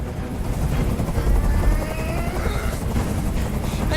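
A helicopter in Detroit: Become Human gives off a steady, loud rotor drone with a continuous rumbling whir throughout.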